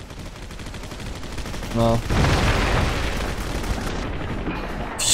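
Rifle gunfire in the video game Clive Barker's Jericho erupts in a loud, sustained burst after a short beep, continuing steadily with a brief spoken word near the start.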